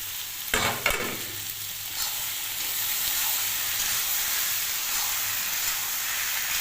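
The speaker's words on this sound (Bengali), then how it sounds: "250 গ্রাম মতো মটর সারা রাত ভিজিয়ে রেখেছি, কুকারে দেবো না, ডাইরেক্ট দিয়ে দিচ্ছি" About 250 grams of overnight-soaked dried peas go straight into a hot pan for vegetarian ghugni, with a brief clatter as they drop, then a steady, close hissing sizzle.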